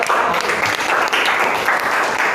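Audience applause in a classroom teaching-practice session, steady dense clapping that fills the whole moment at an even, fairly loud level with no voices on top.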